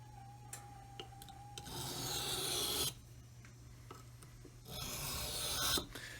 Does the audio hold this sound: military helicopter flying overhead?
no